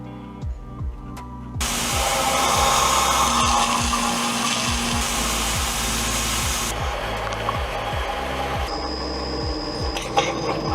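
A metal forming rolling machine runs its two rollers, a steady loud mechanical whir and rasp after a motor starts up, with a regular rhythmic knocking thud repeating underneath throughout.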